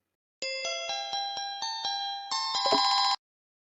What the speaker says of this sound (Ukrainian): ближче до кінця лунає телефонний дзвінок